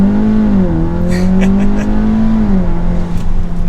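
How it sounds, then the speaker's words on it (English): A dual clutch transmission car launching from a standstill, its engine droning loud and close with a pitch that steps down then climbs steadily before dropping again, heard alone without talk. "the best way to launch a car like this is from a standstill"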